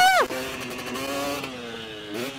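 A dirt bike engine on a motocross track revs sharply at the start, then settles into a steady, close droning hum that swells slightly again near the end; no one speaks.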